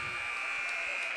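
A steady electronic buzzer drones without break through a girls' high school basketball game between Middle Township and Cinnaminson, marking the end of the third quarter; the sustained, fairly loud tone holds over a busy gym crowd background.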